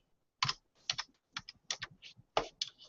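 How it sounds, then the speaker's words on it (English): Computer keyboard typing in a quiet room, several short bursts of close, crisp key clicks separated by brief pauses. "Let me actually type it up."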